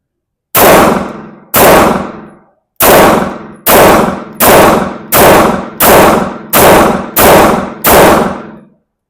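Grand Power Q1 compact pistol firing ten loud, sharp shots in quick succession, each ringing out briefly with slight irregular spacing, no voices.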